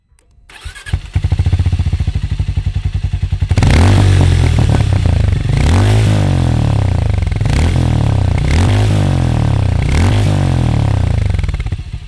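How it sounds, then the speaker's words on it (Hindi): A Harley-Davidson X440 T motorcycle engine starts, idles with a loud throbbing exhaust, then is revved several times in rising, falling sweeps. "आपको इसका एग्जॉस्ट नोट सुनाता हूँ"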